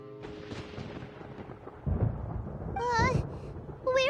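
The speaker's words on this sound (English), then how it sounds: "Paimon hears thunder!" Thunder in the video game Genshin Impact, a deep rolling rumble that swells and lingers, followed by brief synthesized game chimes and tones near the end.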